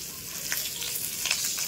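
A hilsa fish head fries in a pan of oil with panch phoron and dried chillies, giving a quiet continuous sizzle with a few soft scrapes and taps of stirring, close by and without voices.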